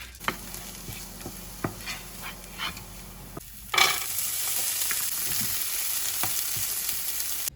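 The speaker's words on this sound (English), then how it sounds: "fry the peas for a second so they're not frozen when I put them in the mix" Frozen peas frying in a pan, a steady close sizzle that jumps louder partway through as they hit hot oil, with occasional stirring clicks; a dog barks or whimpers faintly in the background.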